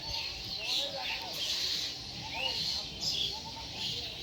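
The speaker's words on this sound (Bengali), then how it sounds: "এবং সাথে পাখির কিচিরমিচির শব্দ।" Small birds chirp in a garden house orchard in Tangail, among mango, almond and other fruit trees. Repeated bright high tweets come in short bursts over a low murmur of distant voices.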